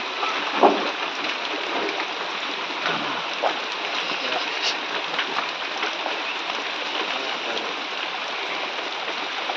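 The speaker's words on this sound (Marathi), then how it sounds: "पावसाचे थेंब पडत आहेत आणि हे शुद्ध पाणी आहे" Rain falling outdoors in nature beside water, a continuous soft patter and hiss that holds steady throughout, with a brief louder tap near the start.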